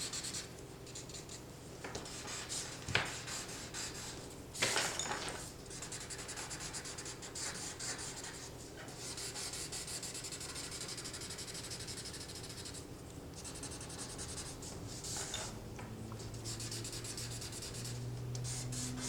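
Rolled paper blending stick rubbing and scraping across drawing paper during a still-life pencil drawing, a steady close-up rasp with a few sharper strokes and taps.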